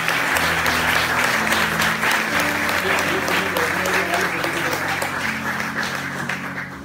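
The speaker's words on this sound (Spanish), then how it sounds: "Dale un aplauso a su palabra." A church congregation applauds after a sermon reading, a full, steady round of clapping under faint background tones that slowly tapers off toward the end.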